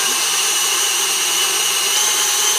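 An electric mixer creaming pumpkin cookie dough at higher speed gives a steady, loud, even whir with no pauses or talk.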